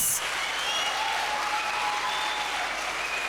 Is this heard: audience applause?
yes